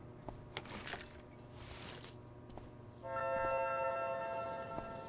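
Keys jangling as they are picked up in Life is Strange: Before the Storm, a few bright metallic rattles and clinks up close, then a steadier tonal hum takes over.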